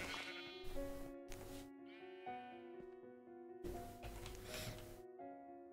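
Sheep in the video game Minecraft bleat several times in short, wavering calls with gaps between, fairly faint against a quiet background.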